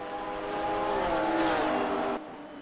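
GT3 race cars at Campo Grande in the ASR GT3 Series: a loud, steady high-revving engine drone with shifting pitch as the cars run together on track, cutting off abruptly near the end.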